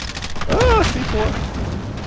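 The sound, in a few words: C4 explosive detonating in Call of Duty video game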